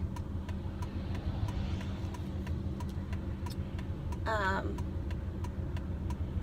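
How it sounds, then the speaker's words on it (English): Steady low traffic rumble of cars passing on a road, with faint regular ticking and a brief harmonic whine near the end. "you just have to bear with me and listen to the cars driving by"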